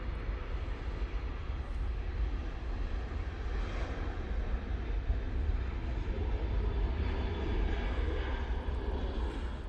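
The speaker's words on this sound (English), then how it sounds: "EasyJet touching down from Nice now using their A380." An EasyJet Airbus A380 touching down at Manchester Airport on arrival from Nice, a loud, continuous broadband jet rumble with deep low end, steady throughout and without talk.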